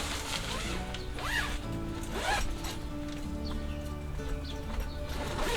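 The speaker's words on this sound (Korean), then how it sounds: "그리고 지퍼 퀄리티가 좋지 않아요." A zipper on a budget four-season dome tent is run along its track in repeated near, rasping pulls, each stroke rising and falling in pitch, with faint outdoor background and no talk.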